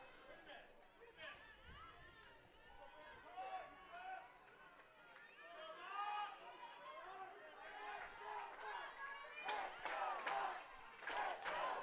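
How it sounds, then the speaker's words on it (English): A crowd at a women's lacrosse tournament game cheers and chants in unison, rising louder toward the end with sharp bursts, while voices babble in the stands. "Crowd getting into the game."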